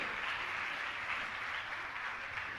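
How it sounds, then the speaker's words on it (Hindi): A crowd at a Jain religious discourse gathering applauds, a faint, distant, steady patter of many hands clapping together, with no voices over it. "एक बार तालियां तो बजाइए"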